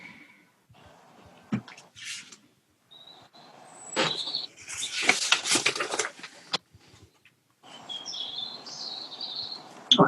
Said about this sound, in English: I can hear some bird song.